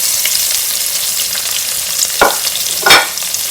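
Onions and curry leaves fry in hot oil, a continuous close sizzle broken by two louder scraping stirs of the spoon near the end.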